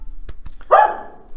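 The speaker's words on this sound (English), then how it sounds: "that's my dog Tommy barking" A dog named Tommy lets out a single loud, close bark, preceded by a couple of faint soft taps.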